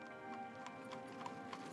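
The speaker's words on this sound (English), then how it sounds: "it was normal to take a ride on a horse-drawn stagecoach" Horse hooves clip-clop in a steady, close rhythm as a horse draws a stagecoach in California's Motherlode country, each hoof strike sharp and distinct over a constant low background with no voices.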